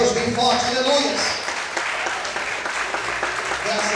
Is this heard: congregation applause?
yes